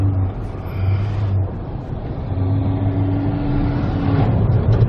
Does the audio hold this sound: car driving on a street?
yes